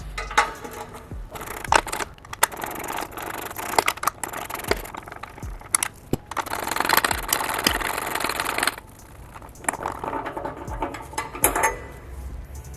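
Metallic clicks, scrapes and ratcheting bursts from a wrench loosening two 14mm exhaust nuts and bolts on a car's axle-back exhaust, close by and irregular, with short pauses between bursts.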